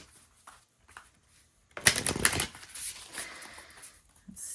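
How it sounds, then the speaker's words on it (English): A tarot card deck being shuffled: a few faint rustles, then a burst of dense riffling and flicking that trails off into softer card handling. "So just give me a second here to shuffle this deck."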